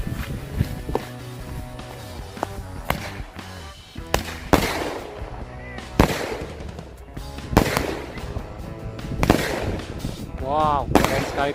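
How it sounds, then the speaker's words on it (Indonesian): Several sharp Roman candle firework shots pop one after another at uneven intervals, each a loud crack with a crackling tail, over a busy outdoor background in a rice field. "ini dia mercon Roman Candle-nya"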